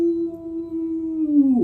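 A wolf cub howls in one sustained, wavering note that bends upward near the end, close and clear with no voices around it.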